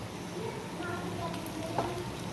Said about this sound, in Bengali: বড়াগুলো ভাজার সময় একদম গ্যাসের ফ্লেমটাকে কমিয়ে দিয়েছিলাম